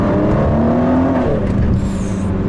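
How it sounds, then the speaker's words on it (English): Ford GT accelerating in second gear with a loud, close engine roar and rising whir, followed by a fluttering turbo sound as the throttle lifts, no talking. "You get the flutter from behind of the turbo noise as well."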